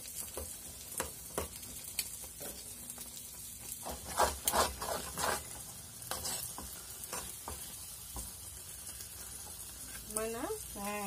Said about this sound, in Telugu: రొయ్యలు వేగుతున్నాయి.